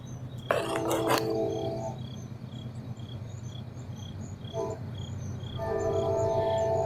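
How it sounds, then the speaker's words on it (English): Over constant chirping crickets, a train horn sounds in short tonal blasts, one near the start and another toward the end, moderately distant. "You hear that? That, the train whistle."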